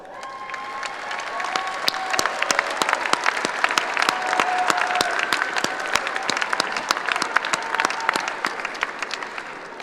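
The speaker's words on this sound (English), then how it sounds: "give them a huge round of applause" A commencement ceremony audience claps for graduates, with a dense, sustained wash of applause and a few sharp, louder claps nearby, swelling slightly midway and carrying on throughout.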